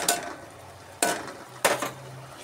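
A spoon scrapes three times through tomato and cashew paste sizzling in a pan, each stroke a short gritty swish over a steady soft frying hiss, close up with no voices.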